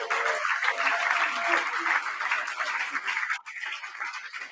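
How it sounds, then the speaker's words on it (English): Audience applause at a Night for Nature live-stream event, a dense sustained clapping from a crowd that fills the room, dipping briefly near the end before resuming. "let's have a round of applause for them"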